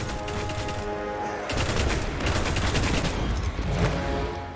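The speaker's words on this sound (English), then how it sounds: "I'm using the Arminius D as my primary weapon here" Rapid automatic gunfire from the Arminius-D primary weapon in the video game Destiny, dense bursts of shots rattling loud and close in near-continuous fusillades with brief gaps, no speech over it.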